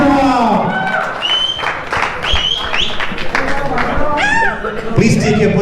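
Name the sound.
audience applause at sangeet ceremony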